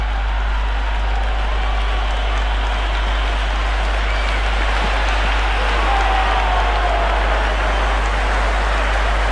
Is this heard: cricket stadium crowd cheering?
yes